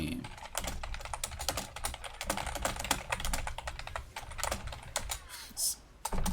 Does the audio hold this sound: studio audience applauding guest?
no